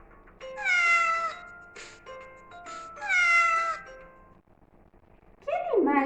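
A cat meows twice, clear drawn-out cries separated by a pause, loud and close against a quiet background, followed by a brief different animal call at the end.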